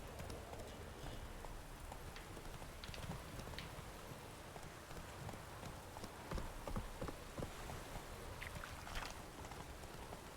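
Roach, the horse in The Witcher 3, trots with a steady clip-clop of hooves. The hoofbeats are faint and partly masked by a constant rain-like hiss and ambient wash, with no talking.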